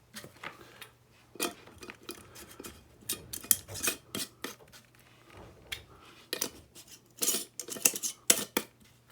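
Metal lids and screw rings clinking and scraping as they are twisted onto glass jars for homemade fruit fly traps, a close run of irregular taps, ticks and rasping grinds with short pauses between, no talking.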